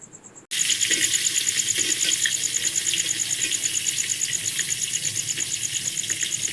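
Crickets chirp in a fast, even pulse during rain, loud and continuous over a broad rain hiss. The sound starts abruptly after a brief quieter moment, with no talking.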